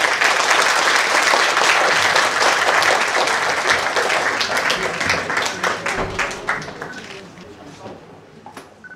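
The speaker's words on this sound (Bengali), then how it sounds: "এর জন্য একটা জোরে হাততালি দিই।" Theatre audience applauding at a Bengali stage drama, a dense sustained roar of many hands clapping that carries loud for most of the stretch, then thins into scattered claps as it fades near the end.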